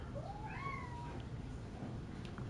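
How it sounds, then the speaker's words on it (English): A cat lets out a single drawn-out meow with a rising then falling pitch, fairly quiet over a low background hum, followed by a brief faint chirp. "Yes, kitty."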